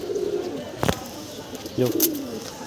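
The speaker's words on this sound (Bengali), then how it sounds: "এই যে কবুতরগুলো ফ্লাইং করে নামছে" Sky pigeons at a loft coo softly nearby, broken by two quick bursts of flapping wings as the birds fly down to land.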